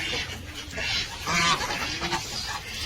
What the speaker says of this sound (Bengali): ওগুলা তো হাঁস মুরগি, সবাই চিনেন।